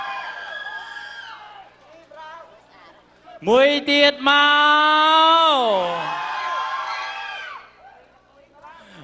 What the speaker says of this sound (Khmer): សូមសម្លេងអបអរសាទរខ្លាំងៗទាំងអស់គ្នា